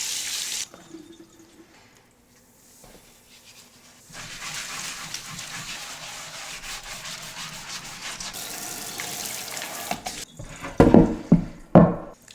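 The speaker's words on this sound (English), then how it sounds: "Give this a good rinse." A tap runs water over a cutting board being rinsed in a kitchen sink, with a quiet start and then a steady gushing flow for several seconds, ending with louder splashes and clatter.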